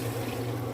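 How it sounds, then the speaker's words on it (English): Broth pours steadily into a cooking pot while making Redguard rice, a continuous close splashing and trickling of liquid heard alone. "Pour in the broth."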